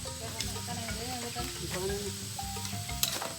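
Onion sautéing in a pan during outdoor cooking gives a soft, continuous sizzle with faint stirring, and quiet background sounds mix in.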